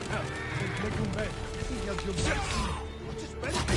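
A horse whinnies amid game sounds in Ghost of Tsushima on Iki Island, the armored mount neighing in several rising, wavering calls over hoofbeats, with a person talking over it.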